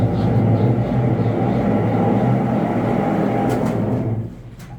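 A Brastemp washing machine with a worn bearing, soaked by leaking water, gives a loud, continuous roaring drone like a helicopter that eases off slightly near the end.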